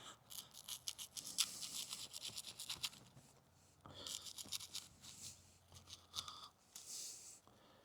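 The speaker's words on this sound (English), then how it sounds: "let's say you had to cut a giant piece of rope" Knife blade sawing through thick yellow 3/4-inch poly rope, close scratchy rasping strokes in two main bursts separated by a short lull, with fibrous tearing texture and no talking.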